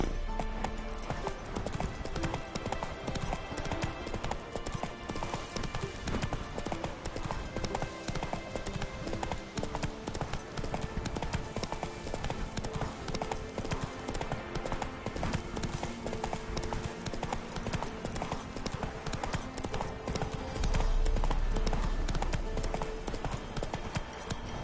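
Horse hooves gallop in The Witcher 3 video game, a fast, continuous clip-clop rhythm heard up close and loud throughout, with a brief deeper thump near the end.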